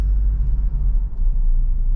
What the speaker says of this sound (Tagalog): Yan, nag-i-start na yung traffic.